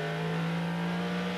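TVR Tuscan race cars at the 1990 Birmingham Superprix street race drone past at high revs, a sustained steady engine note heard alone for a moment without commentary.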